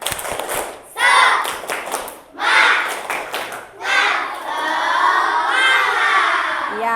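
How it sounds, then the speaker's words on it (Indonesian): Schoolchildren in a classroom doing the tepuk semangat clapping chant, loud bursts of rhythmic group clapping and shouted chanting in several rounds, ending in a longer sustained cheer from the class. "ayo kita ice breaking dulu. Tepuk semangat."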